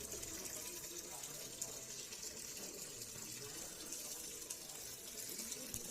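Tap water runs steadily for an outdoor bath, a continuous soft splashing wash heard faintly throughout with no breaks.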